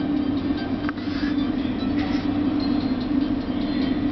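A Tsubame express train to Hakata pulling away, heard from inside the carriage: a steady low hum with a strong tonal drone and faint rattles, continuous and even.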